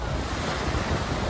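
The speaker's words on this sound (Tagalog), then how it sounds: "Naglalakihang mga alon din ang humampas sa baybayin ng ilang bayan sa Bohol" Large waves pound the shore of a coastal town in Bohol during rough weather, a loud, continuous roar of surf mixed with heavy wind buffeting the microphone.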